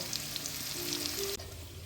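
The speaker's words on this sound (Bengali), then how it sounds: "আমি এই আলুগুলো ভেজে নেব। একটু সামান্য হলুদ দিয়ে দিচ্ছি" Potato pieces with a pinch of turmeric sizzle steadily in hot oil, a close, even frying hiss with a faint scrape near the end and no talk.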